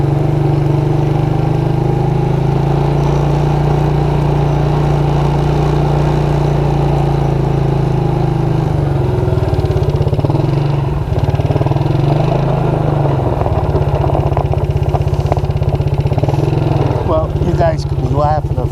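A Suzuki Quadrunner LT230E ATV engine idles and runs steadily close by, stuck in reverse, with a low droning tone that shifts in pitch partway through, as if the machine is revved or pulled back.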